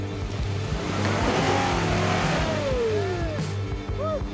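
A Toyota Hilux engine revs hard as the truck drives out of soft coastal dune sand onto traction boards, a loud rising then falling roar with a brief squeal-like whine near the end.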